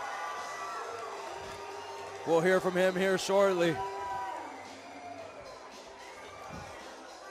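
A crowd at an MMA event cheers after a submission win, with a brief, loud burst of shouting in the middle and a fainter crowd murmur before and after, while a commentator talks over it.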